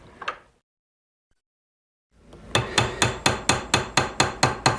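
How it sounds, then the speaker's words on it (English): A hammer strikes a metal leaf shape in a steady run of about ten sharp, ringing blows at an even pace, following a single earlier tap and a stretch of silence. "go right into the use of a good hammer"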